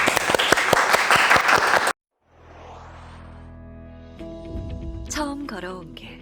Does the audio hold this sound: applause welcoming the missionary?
yes